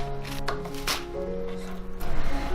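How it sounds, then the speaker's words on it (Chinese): A knife cuts large heads of spring greens into long pieces on a board, giving a few sharp, separate chops over steady background music, with no talking. "切好之后给它切成长段"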